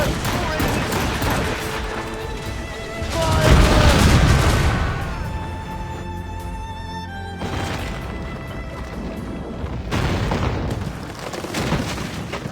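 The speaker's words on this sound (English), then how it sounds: "Ready to hit them, sir! Cannon! Fire!" Ship cannons firing in the video game Assassin's Creed Rogue during a naval battle: a loud, heavy booming barrage swells in the middle, followed by further rumbling blasts, with game music running underneath throughout.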